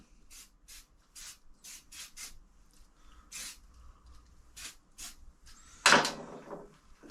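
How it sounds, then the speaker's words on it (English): Cleaner is sprayed onto a bike in a shed in several short hissing bursts, with quiet rubbing between them as the frame is wiped down. A louder scrape or knock comes near the end, and no one speaks. "I'm going to give the bike a quick squirt over and give it a wipe"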